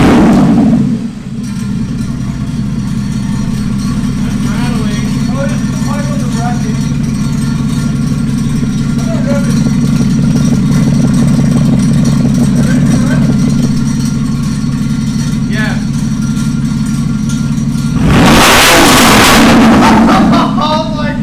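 A Porsche Cayman S with stock headers and straight pipes, no muffler, fires up from cold: a loud, steady, rumbling idle runs throughout, ending with a sharp rev blip near the end.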